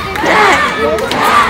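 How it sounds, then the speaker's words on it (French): A crowd at an outdoor activity shouts a name together in unison, a loud, sustained collective yell with mixed adult and children's voices. "j'aimerais ça qu'on crie tout ensemble le nom de notre paléontologue préféré"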